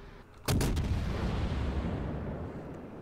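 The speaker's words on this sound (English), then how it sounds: "those shots landed mighty close to me" Shells land near the tier 9 Azuma ship in World of Warships, a sudden heavy artillery boom with sharp cracks, then a loud rolling rumble that slowly dies away.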